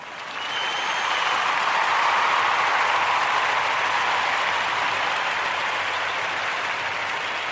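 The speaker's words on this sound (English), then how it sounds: "Let's give the ancestors a round of applause, family." A crowd at a community gathering breaks into sustained applause for the ancestors, a broad, even wash of many hands clapping that swells quickly and holds steady throughout.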